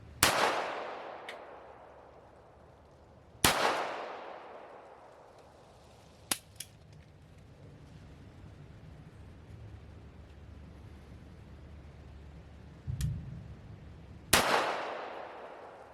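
Hand-loaded ammunition fired from a suppressed gun with suppressor-height sights: four sharp, loud shots spaced a few seconds apart, each with a decaying tail, plus a couple of fainter metallic clicks between them.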